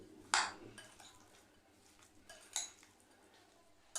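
Chopped vegetables, salt and spices for vegetarian kebabs mixed in a bowl: faint, sparse clinks and taps of a spoon against the dish, one sharper knock early, then quiet soft scraping.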